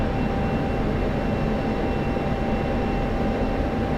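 An F-16CM jet engine in the flight simulator Digital Combat Simulator, throttled back to low power with the speed brake open, makes a steady, dense low rumble that holds unbroken and even for the whole stretch.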